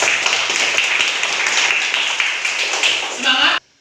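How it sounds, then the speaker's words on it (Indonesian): A group claps together in a classroom, dense steady applause for several seconds that stops abruptly at the end. "Tepuk tangan dulu untuk kita."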